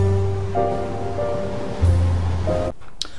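Pacific Ocean surf outside a home office window: a steady, continuous wash of waves carries on with faint tonal hum layered over it, then briefly drops away near the end.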